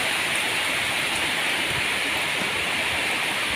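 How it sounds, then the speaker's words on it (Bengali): Steady rain falling outdoors during hot weather, a dense continuous broadband hiss with no pauses and no voices. "এই দেখো বৃষ্টি পড়ছে, দারুণ লাগছে বৃষ্টিটা।"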